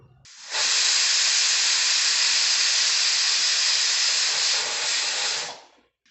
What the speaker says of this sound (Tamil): இப்போ 2 விசில் வந்துருச்சு.